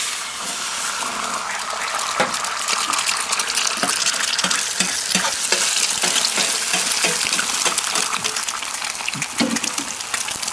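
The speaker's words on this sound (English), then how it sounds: "frying an egg on a griddle" Two eggs frying in peanut oil on a griddle, a steady, dense crackling sizzle with scattered pops and spits, close and continuous throughout.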